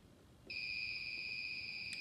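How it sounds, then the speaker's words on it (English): An electronic buzzer on a small circuit switches on abruptly after a faint quiet moment and holds a steady, piercing high-pitched tone until the end, close and clear with no talking. "the buzzer started sounding"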